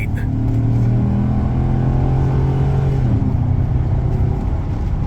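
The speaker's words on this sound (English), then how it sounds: "Getting up onto the freeway, let's hit that 6-liter V8." A 2007 Chevy Silverado Z71 4x4 with a 6.0L gas V8 and 6L90 transmission accelerates up a freeway on-ramp, a loud steady engine drone rising in pitch inside the cab with a constant rumble throughout.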